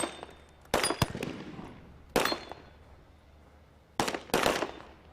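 Sniper rifle shots ring out at a SWAT team shooting challenge, three sharp reports spaced a second or more apart, each with a loud crack and a decaying echo over faint outdoor background.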